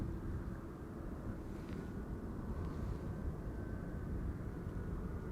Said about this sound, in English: arriving from Birmingham, EasyJet A319